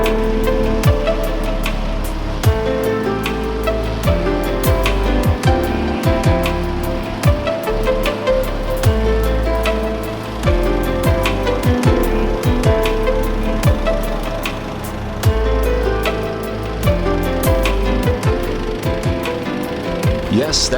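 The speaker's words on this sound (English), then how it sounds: "that is the sound of the single cylinder being slightly stressed as it struggles to keep the RPMs up to speed" Single-cylinder engine of a Cub Cadet XT riding mower straining through tall grass, a loud, close, steady rough chugging drone with irregular knocks and sputters throughout, no clear letup over twenty seconds.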